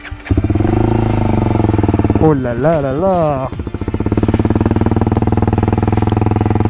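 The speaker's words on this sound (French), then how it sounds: "Je vais vous démarrer la moto et vous allez pouvoir entendre ce doux bruit" A KTM motorcycle engine fires up and settles into a loud, close, throbbing idle with a rapid steady pulse; a person briefly exclaims over it.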